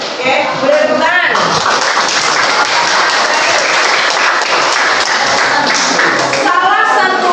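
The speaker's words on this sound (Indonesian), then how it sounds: "Oke, boleh tepuk tangan" A room full of people applauds loudly and continuously, a dense wash of clapping that carries on for several seconds.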